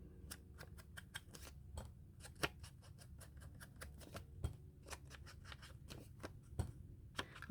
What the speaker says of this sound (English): I cut all the bits of extra white off because it was just looking too white